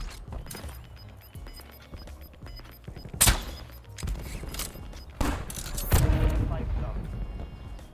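Bursts of Call of Duty: Warzone gunfire crack out repeatedly, a few loud shots standing out over busy background game noise and occasional voices.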